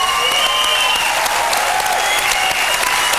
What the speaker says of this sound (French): Et encore une salve d'applaudissements.